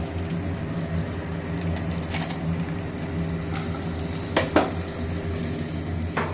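Fried rice with cashews and raisins being stirred in a pan, giving a steady soft sizzle with brief scraping clicks of the spatula partway through; no talking.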